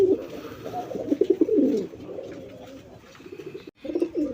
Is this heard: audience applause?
no